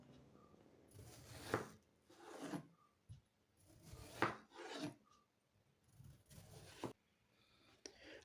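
A knife slices through watermelon, cutting it into small pieces for juice: soft, wet rasping strokes repeat at an uneven pace, close and moderately quiet, with short gaps between cuts and a few sharper taps on the board.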